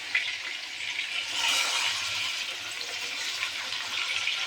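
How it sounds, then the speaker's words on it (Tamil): Washed chicken pieces go into hot oil in a kadai, producing a continuous close, bright sizzle and crackle that swells briefly then holds steady, with no talk. "எண்ணெய் சூடானதும் நம்ம கழுவி வச்சுருக்கிற சிக்கனை போட்டுடலாம்."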